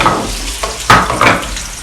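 Garlic sizzles loudly in a hot pan while misket köfte is being made, with steady crackling broken by a few sharper bursts as the pan is stirred.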